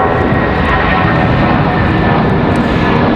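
An Airbus A319 taking off at night at Raleigh-Durham airport, a loud, close, unbroken jet engine roar with a faint whine, sustained throughout without voices.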